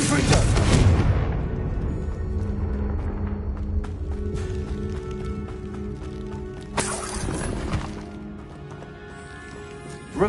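A Confringo fire spell blasts in Hogwarts Legacy with a loud, sharp burst that decays into a crackling rumble, then a second softer impact follows midway and a brief hit lands at the end.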